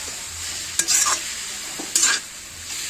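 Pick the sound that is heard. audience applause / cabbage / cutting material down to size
cabbage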